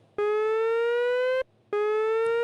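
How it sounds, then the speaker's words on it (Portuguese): An emergency siren from a broadcast sounds two long steady electronic tones with a short gap between them, loud and clean, with no voices. "familiarize-se com o sistema de sirene do Star Park"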